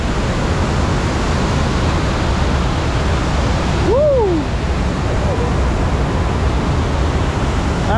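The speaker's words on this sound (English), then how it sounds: "Big finale with the waterfalls just there." Rushing water from waterfalls pours steadily and loudly into the splash finale of a rapids rafting ride at a theme park, a dense continuous roar with a brief tonal squeal near the middle.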